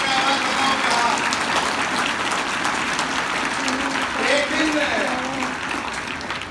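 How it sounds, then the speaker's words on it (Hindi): School students at a traffic-awareness laughter event at a convent school break into loud, sustained applause with shouts and cheering, a dense steady roar of clapping and voices. "एक बार जोरदार तालियां और शोर मचा के आवाज बताओ"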